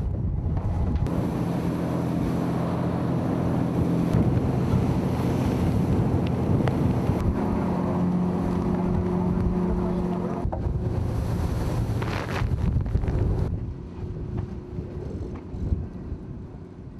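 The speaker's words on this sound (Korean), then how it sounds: "3m가 넘는 파도가 치기 시작했다." Waves over three metres high pound a fishing boat at sea during rain and strong wind on a yellow croaker fishing trip, a loud, continuous rush of surf and wind buffeting that eases near the end.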